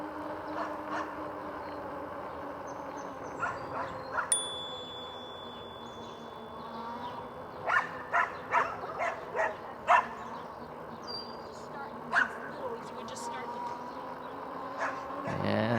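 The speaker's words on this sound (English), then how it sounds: "now we got a whole bunch of dogs and everything going on here" Several dogs bark outdoors from a moderate distance in short, sharp bursts, clustered mid-way and scattered elsewhere, over a steady background hum with faint insect-like chirps.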